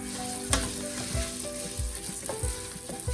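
Pasta shells toasting in oil in a pot for a pasta soup with tomato broth, a close continuous sizzle broken by repeated stirring scrapes and taps.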